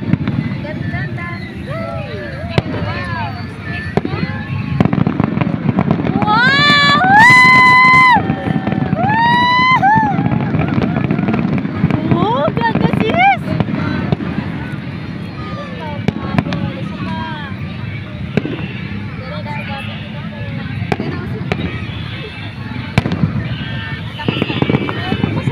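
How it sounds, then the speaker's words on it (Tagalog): New Year's fireworks at Astro Park in Angeles, Pampanga, popping and crackling repeatedly over a loud outdoor crowd, with whistling rockets rising near the middle and people talking and cheering throughout. "May fireworks na tayo dito!"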